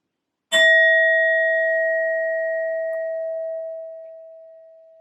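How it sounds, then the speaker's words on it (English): A single struck sound bowl rings out with a bright initial strike and a long, pure sustained tone that slowly fades over several seconds, loud and alone. "I will be using my sound bowl to clear and set the energy."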